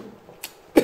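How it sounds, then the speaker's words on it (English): A single loud cough right after eating hot Brown Bhutlah chili, preceded by a brief fainter throat sound; close and alone, with no talk. "that's the first time I cough."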